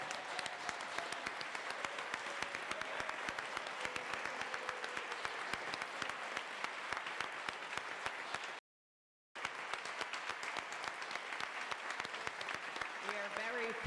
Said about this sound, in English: Please, let's give them some applause.